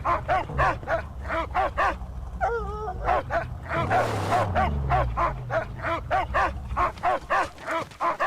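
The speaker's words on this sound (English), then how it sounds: "I think the military needs this dog in particular." In the Mad Max video game, a dog barks in a steady, rapid series of close, loud yaps, with a brief whine, over a low engine rumble and game ambience; someone talks at times.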